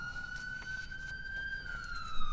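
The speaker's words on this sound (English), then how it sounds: "Sorry about the sirens" A wailing siren holds a steady high tone that slowly drifts, sounding moderately distant and continuous with no voices over it, heard early in the morning.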